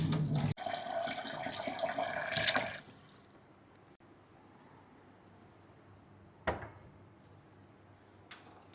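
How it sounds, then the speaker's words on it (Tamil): Soaked chickpeas rinsed under a running kitchen tap, a steady splashing stream for about three seconds, then stopping, followed by faint drips and a single clunk. "இப்போ வந்து இதை நல்லா வாஷ் பண்ணிவிட்டு குக் பண்ணிடலாம்."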